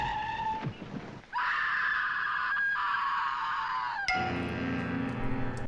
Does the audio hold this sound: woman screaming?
yes